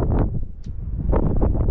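Wind buffets a microphone outdoors on a roadside stop while travelling by caravan, a loud, low gusty rumble with fluttering bursts throughout.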